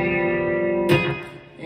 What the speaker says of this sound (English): Coming out of the gate strong with some open string licks.